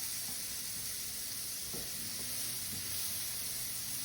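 Mushrooms sizzle steadily in a hot pan, a constant close hiss of frying with faint scrapes and knocks as they are stirred and moved around, no talking.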